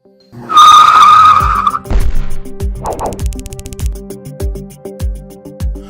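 A car braking hard at speed in a braking test, a loud sustained tire screech followed by a series of heavy thuds and clattering impacts, close and intense.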